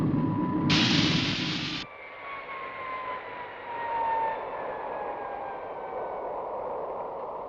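The Supercar's aircraft engine at 30,000 feet, a loud, near roar that cuts off abruptly after a second or two, leaving a steady whooshing drone with a thin whine that slowly falls in pitch.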